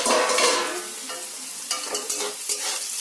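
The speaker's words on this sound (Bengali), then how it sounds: "আর সামান্য একটু ভাজলেই হয়ে যাবে।" Vegetables sizzle in a hot pan while a utensil scrapes and stirs in short irregular strokes, close and fairly loud.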